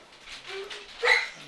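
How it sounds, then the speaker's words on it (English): Several dogs barking and yipping indoors, fairly close, in short excited bursts with one louder bark near the end. "my dogs are going nuts"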